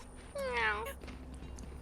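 A person imitates a cat with a single drawn-out, wavering meow over quiet background hum, briefly and close to the microphone.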